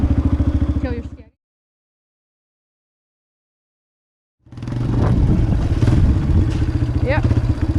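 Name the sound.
motorcycle engine as a child learns to ride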